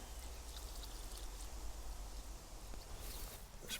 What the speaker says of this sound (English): Water it in.